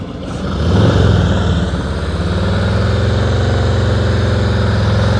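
A motorcycle engine idles and pulls steadily through slow-speed riding practice, rising in loudness over the first second and then holding a low, even drone at close range.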